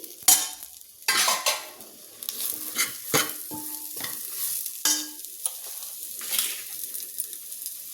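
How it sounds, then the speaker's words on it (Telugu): Curry leaves, chopped green chillies and onions tossed into hot oil for a tomato potato curry, crackling and sizzling in bursts as a spoon stirs and scrapes the pan, close and fairly loud. "ఇప్పుడు వచ్చేసి కరివేపాకు కట్ చేసుకున్న పచ్చిమిర్చి ఉల్లిపాయలు వేయాలి"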